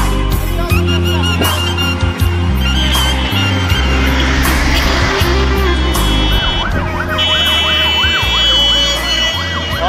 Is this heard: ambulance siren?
yes